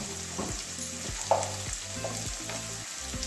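Ground cumin, coriander and turmeric fry in oil in a pan for stuffed potol dorma, giving a steady sizzle broken by rhythmic scraping strokes of a spatula, close and alone.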